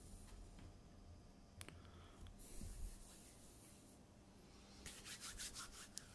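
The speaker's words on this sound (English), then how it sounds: "You're supposed to rub it." Hands rubbing together with Godrej Protekt hand sanitizer, a faint, dry swishing friction in soft bursts with a few small ticks, close and quiet in a still room.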